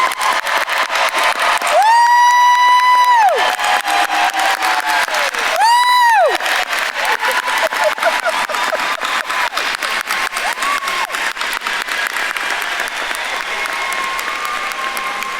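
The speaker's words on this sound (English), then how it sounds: "Can we give our graduates another round of applause?" A large commencement crowd honoring social work graduates claps continuously and loudly, with two long, high whoops and cheers rising above the sustained applause.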